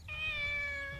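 A single cat's meow from the video game Shenmue, close and clear, about one second long with a high drawn-out tone over low background hum.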